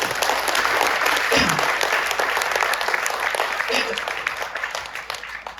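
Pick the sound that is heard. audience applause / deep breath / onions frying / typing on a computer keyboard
audience applause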